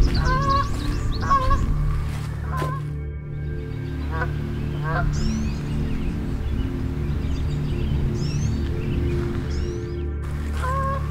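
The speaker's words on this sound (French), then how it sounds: "Vous entendez, il y a les oies." Geese honking repeatedly in the distance near a partly frozen lake and marshes, scattered calls over a steady low engine-like hum.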